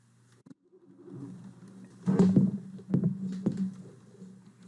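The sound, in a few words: car driving past in video game American Truck Simulator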